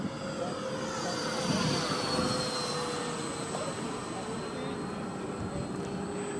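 A Freewing MiG-21 RC model jet on its first flight gives a continuous high turbine whine with a broad rushing roar. The sound stays steady and fairly loud throughout.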